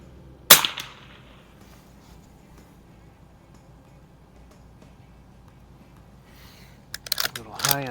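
A Marlin 39A lever action rifle fires one sharp, loud shot near the start, followed by a quiet stretch and then a burst of clattering and rustling near the end.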